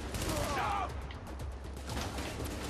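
Dense, continuous gunfire from a firefight in Tom Clancy's The Division, with rapid shots overlapping throughout and a brief voice-like tone partway through.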